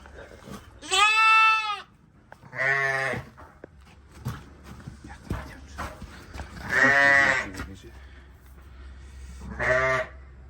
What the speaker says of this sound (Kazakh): Борман деген Борман атты қошқардың баласы